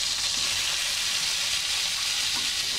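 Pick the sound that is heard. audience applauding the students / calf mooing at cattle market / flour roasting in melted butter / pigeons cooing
flour roasting in melted butter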